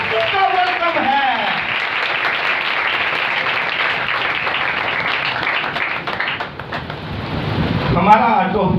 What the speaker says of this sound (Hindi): आए फिर यीशु को वेलकम करें जोरदार तालियों के साथ।